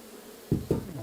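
Honey bees buzz around an opened Warré hive during an April inspection, a low hum punctuated by two brief, louder close passes near the listener.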